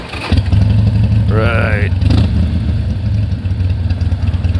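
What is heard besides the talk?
Harley-Davidson Sportster 1200 Custom motorcycle engine with aftermarket exhaust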